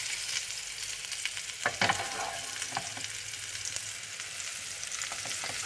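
Paneer tikka skewers frying in oil on a tawa give a steady, bright sizzle, close but fairly quiet, broken by a few brief scrapes and clicks as the skewers are moved, with no talking.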